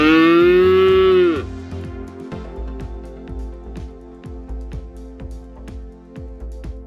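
Cow moo played from Google's animal sounds search feature: a single loud, drawn-out bovine call lasting over a second, then fading into a quieter stretch with faint rhythmic clicks.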